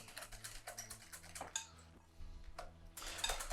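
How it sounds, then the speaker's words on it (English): Truffle oil topping for southern fried chicken gets mixed together in a bowl, with quick, close clinks and tapping scrapes of a utensil against the dish in an irregular rhythm. "a little bit of truffle oil in the back there. Okay, and I'll need to just mix that all together"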